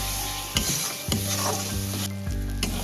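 Spice paste sizzles steadily while being stirred for a Bengali-style lalantika fish curry, with a few soft scrapes of the spoon against the pan breaking through the continuous frying hiss.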